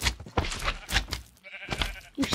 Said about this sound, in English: Sheep, what are you doing? I have wheat.